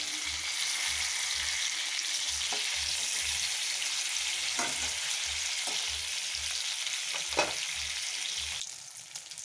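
Fish pieces fry crisply in oil with a steady crackling sizzle, while a low rhythmic pulsing hum repeats underneath and a few sharp spatters pop out before the sound eases at the end.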